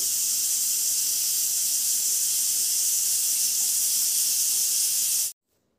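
A loud, steady hiss of steam jetting from a pressure cooker boiling elephant foot yam, continuous for several seconds before cutting off abruptly into silence.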